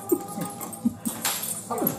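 Dog whimpering and yipping in short, high whines, several brief cries spread through the clip, fairly close, with some background noise and no clear talk.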